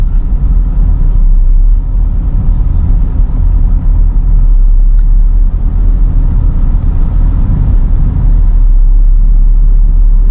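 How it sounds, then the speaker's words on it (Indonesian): A 2010 Toyota Innova with its 2KD diesel engine and automatic transmission hums and rumbles steadily from inside the cabin while driving, a constant low drone with road noise and no talking. "Memang di 2KD ini suara dieselnya dan getarannya itu masih cukup kerasa"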